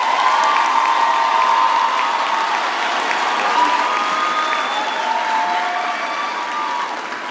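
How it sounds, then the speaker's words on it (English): A large crowd at a university graduation ceremony applauds the graduates with loud, dense, sustained clapping that carries on for several seconds and fades slightly toward the end. "Let's give all our graduates a round of applause."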